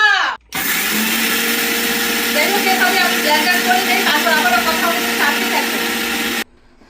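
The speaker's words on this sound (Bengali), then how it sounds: "তো অবশেষে মশলা ব্লেন্ডার করা কমপ্লিট।" A kitchen blender grinds spices into powder, starting abruptly and running in one steady, loud, close whir for about six seconds before cutting off, with faint voices audible beneath.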